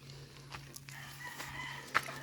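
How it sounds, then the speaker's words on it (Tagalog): Chickens on a Philippine farm cluck softly and sporadically at a distance over a steady low background hum, with one brief sharper call near the end, and no talk. "Yung mga manok, yan,"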